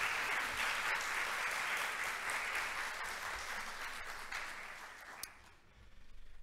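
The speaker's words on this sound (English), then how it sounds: "I would ask that you join me in a round of applause for them" Round of applause from a lecture audience, a dense steady wash of many hands clapping that fades gradually toward the end and stops, with no talk over it.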